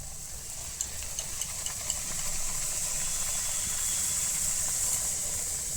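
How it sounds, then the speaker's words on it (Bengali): Luchi, puffed flatbreads, frying in very hot oil: a steady broadband sizzle and hiss that holds at an even level and grows slightly denser partway through, with no talk. "লুচির তেল রাখতে হবে একদম হিট, তাহলেই লুচি ফুলবে।"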